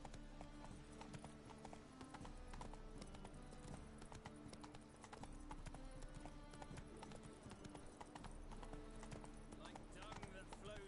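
Hooves of the horse Roach clop rhythmically at a gallop in The Witcher 3 on PS4, a steady quiet beat of hoofbeats over game music, with a voice speaking over it.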